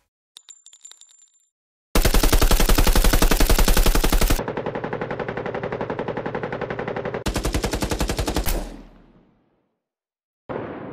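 Unreleased heavy submachine gun sounds from Fortnite game files: a faint metallic rattle, then long loud rapid-fire bursts with a brief pause between, a tail fading out and a final sharp burst start.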